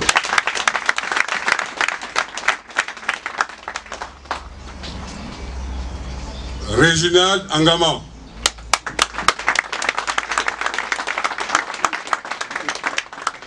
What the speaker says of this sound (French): Je veux qu'on applaudisse pour elle.